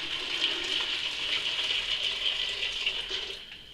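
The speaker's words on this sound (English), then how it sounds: "Just going to add in my water." Water poured into a pan while making apricot jam wine, a continuous bright splashing stream for a few seconds that eases off at the end, fairly close and alone without speech.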